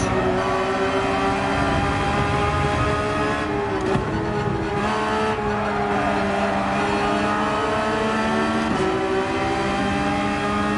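A Porsche 911 race car in Gran Turismo 7 revs hard, its engine note loud and continuous as it accelerates and climbs through the gears, strong harmonics droning throughout.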